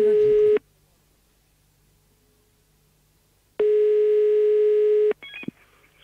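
Loud telephone busy tone cutting in after a call drops: a short burst, about three seconds of silence, then a longer steady burst, followed by a brief clatter of handset noise.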